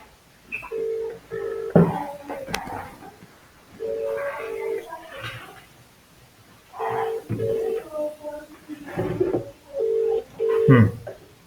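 Telephone keypad dialing tones from a phone: short paired beeps in several bursts separated by pauses, mixed with handling noise and faint background murmur, close and moderately loud.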